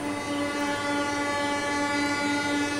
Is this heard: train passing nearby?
yes